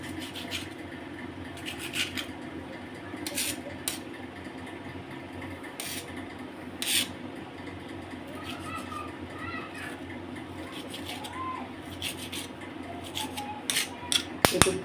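Fresh coriander leaves are cut in a home kitchen, with repeated short, crisp snips in an irregular rhythm, close by, as a voice talks quietly in the background.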